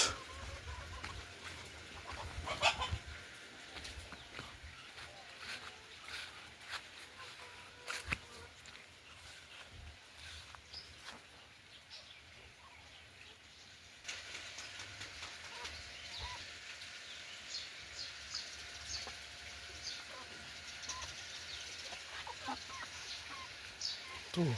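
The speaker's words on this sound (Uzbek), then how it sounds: "Tovuqlarimiz." Farmyard chickens cluck in short, scattered bursts over a quiet outdoor background, faint and somewhat distant, with occasional louder calls and no voices.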